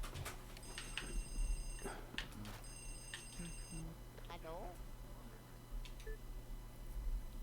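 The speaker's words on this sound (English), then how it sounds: "Pick up the damn phone!" A telephone rings in the video game Luigi's Mansion: two bursts of bright electronic ringing, each about a second long, under people talking over game background sound.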